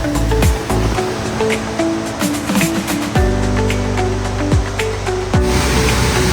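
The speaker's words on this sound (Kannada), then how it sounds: "ಅಬ್ಬೆ ಫಾಲ್ಸ್, ಮೂಡಿಗೆರೆ ಅಬ್ಬೆ ಫಾಲ್ಸ್ ಅಂತ ಹೇಳ್ತಾರೆ ಇದಕ್ಕೆ." Abbe Falls near Mudigere on a monsoon trip roars as a constant, dense rush of falling water, with steady tonal droning sounds and a few falling pitch sweeps layered on top.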